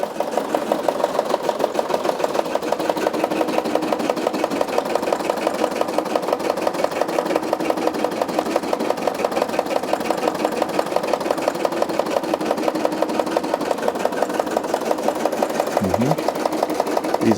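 Brother SE625 embroidery machines stitch patches in a rapid, steady mechanical chatter that is close and continuous. A brief higher squeak comes near the end.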